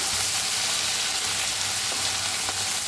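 Vegetables roast and sizzle in a hot pan during home cooking of a bhaji, a steady close frying hiss with faint stirring scrapes and no talk.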